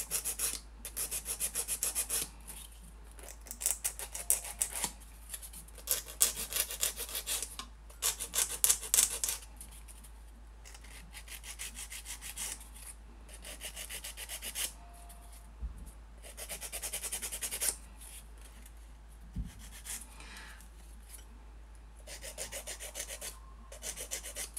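A nail file rasps over an acrylic nail to roughen the surface where it is glued, in quick repeated strokes that come in bursts with short pauses, close and fairly soft.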